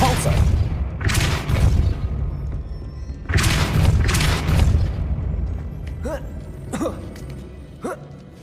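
Depulso spell cast in Hogwarts Legacy, heard as heavy booming magical blasts in two loud bursts early on, followed by a few sharper, quieter impacts toward the end, with game ambience underneath.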